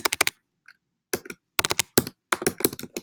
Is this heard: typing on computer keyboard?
yes